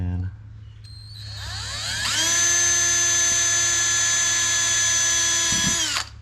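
Power drill boring small pilot holes into the front bodywork of a Dodge Challenger for canard installation; a high whine spins up, holds steady and loud for several seconds, then cuts off abruptly.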